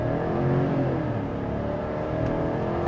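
A 2026 Chevy Silverado 1500 LT pickup in sport mode accelerating hard from a launch: a steady, loud engine roar heard from inside the cab, with no talking.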